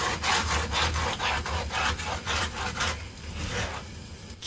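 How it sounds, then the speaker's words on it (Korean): A wooden spoon scrapes egg rice around a frying pan in rapid, rhythmic strokes that are close and fairly loud. The scraping slows and fades toward the end. "계속 긁어줘야 돼서 쇠숟가락을 들고 이 짓을 하면 후라이팬이 다 망가지고"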